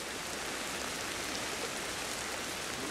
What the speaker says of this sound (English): Yeah, the rain's ending now anyway.